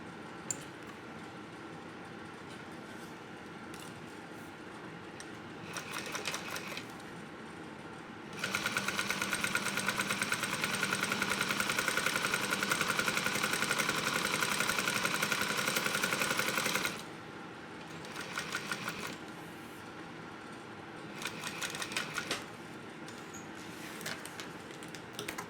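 A sewing machine top stitching a bucket backpack at an eighth of an inch runs in short bursts, then in one long steady run of rapid needle chatter, then in shorter bursts again, close and alone.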